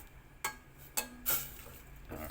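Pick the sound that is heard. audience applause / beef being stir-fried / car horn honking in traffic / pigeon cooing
beef being stir-fried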